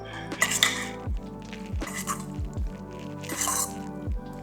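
Yellowtail poke with macadamia nuts and tobiko is mixed in a bowl, giving close, wet squishes and clinks of a utensil against the dish in a few repeated strokes.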